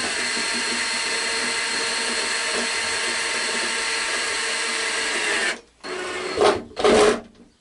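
A small screw driven into the back of a Trumpeter Titanic sinking diorama, heard as a long steady mechanical whir followed by two short, louder bursts.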